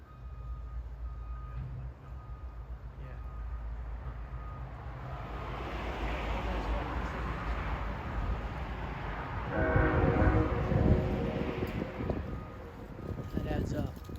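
Helper locomotives roll off a branch onto the main line, a low heavy rumble swelling and growing louder toward the middle with grinding metallic rail noise, while people talk nearby.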